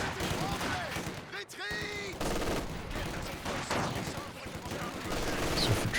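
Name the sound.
machine gun fire in Company of Heroes 2 video game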